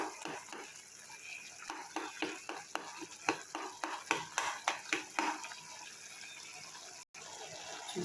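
Cooked tomatoes being smashed in a curry pan of potato and chana dal, a series of soft wet thuds and scraping stirs over a low simmer, fairly quiet and rhythmic, then a brief cut.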